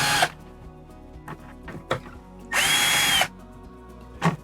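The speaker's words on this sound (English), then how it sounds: "You're going to get all 6 screws put into place." A power drill drives screws while an RV air conditioner is mounted, with several short close bursts of whirring and then one longer steady run near the end.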